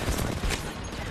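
A burst of video game gunfire from an online shooter, a dense, loud rattle of rapid shots filling the whole short moment.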